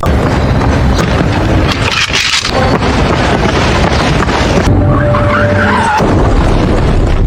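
A car skids on the road and slams into a parked car, a loud burst of tire noise followed by a heavy crash impact and rattling debris, with no voices.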